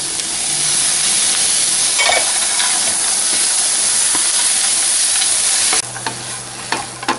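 Frozen peas stir-fry in a hot pan with a loud, steady sizzle and hiss that runs throughout, joined by occasional scraping of the spoon. The sizzle drops off slightly near the end, and no one speaks.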